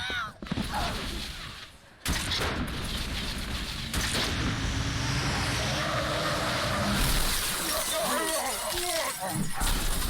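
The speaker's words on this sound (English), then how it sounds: "A car just came out of nowhere! Smashed all the brutes!" In a Halo 3: ODST scene, a car smashes through Brutes with a long, dense roar of engine, crunching impacts and shattering debris, while voices shout over the chaos.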